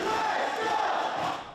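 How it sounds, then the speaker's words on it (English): A packed stadium crowd at a Team Taiwan baseball game roars and chants in unison, a loud continuous mass of voices that swells slightly before easing off at the end. "The stadium's packed, the crowd electric."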